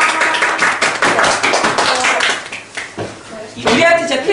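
A middle school class claps for a student about to present, several seconds of close, uneven clapping from a small group with a little talk mixed in.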